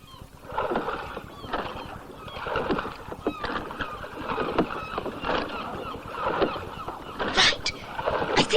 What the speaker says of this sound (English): We can stop rowing now.